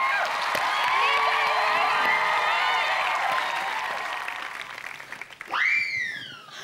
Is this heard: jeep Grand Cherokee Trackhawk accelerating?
no